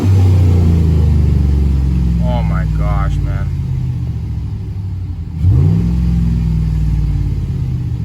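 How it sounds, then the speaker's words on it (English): Chevrolet Silverado V8 with a cold air intake, engine droning loudly at high revs before dropping and surging again with a deep rumbling burble, close up, while someone speaks excitedly over it. "Look how quickly this thing revs with this intake though."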